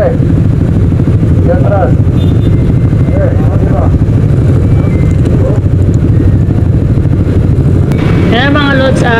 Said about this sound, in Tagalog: ipapasok na natin yung motor natin sa barko